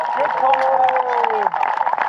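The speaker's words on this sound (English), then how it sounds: "a round of applause for Henry of Bolingbroke" Crowd at a medieval jousting tournament claps and cheers for a knight, a moderately loud wash of applause beneath a prominent announcer's voice.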